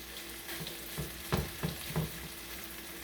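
Seafood risotto crisps in a nonstick skillet with a steady low sizzle, broken by a few soft scraping stirs near the middle, with no talking.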